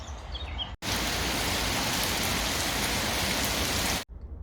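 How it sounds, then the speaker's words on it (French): Heavy rain downpour, a dense steady hiss of pouring water that starts abruptly, holds loud and unbroken for a few seconds, then stops suddenly. "Sauf que maintenant, bah, c'est le déluge."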